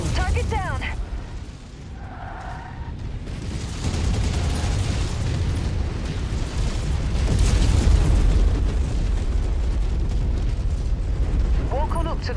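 A destroyed mech explodes in the MechWarrior 5 video game, a loud, rumbling blast that swells into a long roaring eruption and fades out over several seconds. Short synthetic radio blips sound at the start and end.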